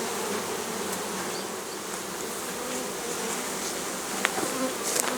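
A dense, steady drone of many honeybees buzzing close by around a log hive, continuous and fairly loud, with a few brief clicks and knocks near the end.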